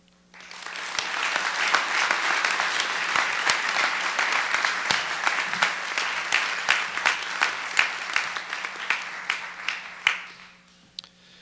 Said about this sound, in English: Please join me one more time in giving these four a round of applause.